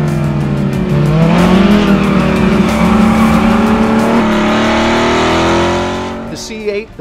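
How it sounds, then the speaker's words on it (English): Chevrolet Corvette C8 fitted with a Borla aftermarket exhaust accelerates hard, its engine note climbing loud and raspy through a gear change, holding a strong roar, then fading as the car pulls away, with a brief voice near the end. "The C8, the Borla exhaust,"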